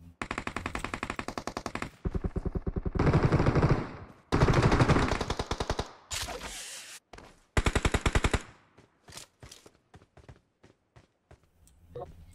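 An enemy fires a machine gun in a video game: loud rapid automatic bursts of several seconds each, separated by short gaps, with sparser shots and soft footsteps toward the end.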